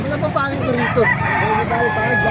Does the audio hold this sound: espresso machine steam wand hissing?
no